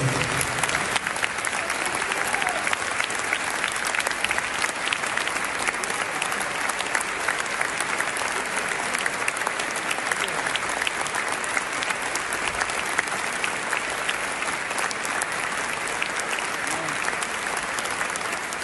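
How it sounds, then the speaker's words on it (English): A stadium or event crowd gives a sustained tribute ovation after a footballer's death in the Turkey–Syria earthquake, dense steady clapping filling the space loudly and evenly throughout. "a moment of applause"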